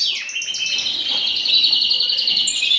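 Pet red breeding birds, a cock and hen paired for the breeding season, give rapid high chirps and tweets close by, a busy continuous twittering with no talk.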